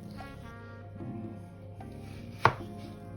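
A single sharp crunch of a knife cutting through crumbly fruit crumble topping, close up, after a few seconds of soft scraping.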